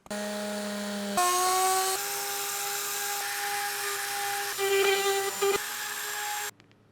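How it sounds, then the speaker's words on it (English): A high-pitched Dremel rotary tool whines steadily as it shaves fiberglass on a custom instrument panel, its pitch shifting slightly under load before it cuts off. "Dremel works best for something like this because this won't chip the glass."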